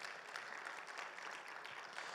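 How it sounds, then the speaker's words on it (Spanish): A church congregation applauding at a Bible class on Daniel and Revelation, with steady, dense clapping sustained throughout at moderate level and no speech over it. "Denle un fuerte aplauso al Señor,"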